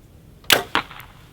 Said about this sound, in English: So it's considerably louder, obviously, the arrow hitting the target